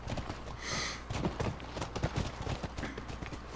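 Horse hooves from The Last of Us Part II clip-clop in a quick, uneven rhythm close by, with a brief bright rustle at the start and no talking.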